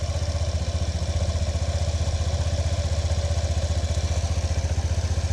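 A revived motorcycle engine idles close by with a fast, even, slightly rattly pulsing beat that holds steady throughout, with no voices.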